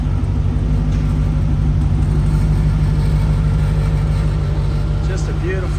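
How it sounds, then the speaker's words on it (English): Low, steady exhaust idle from a 1994 Chevrolet Corvette convertible, a constant deep rumble close by, with a person talking over it throughout. "listen to that exhaust idling."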